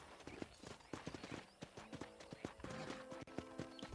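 Horse hooves clip-clop in steady, quick rhythm as a horse is ridden in the video game Red Dead Redemption, with a few soft whinny-like tones over the hoofbeats and no talking.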